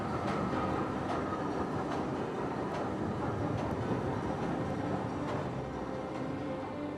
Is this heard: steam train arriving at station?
yes